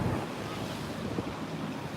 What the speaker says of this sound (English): Got a lot of surf things going on. Boogie boarding. Those waves are big.